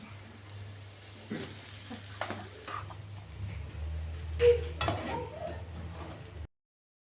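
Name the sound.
rice being added and stirred in a pan for mango rice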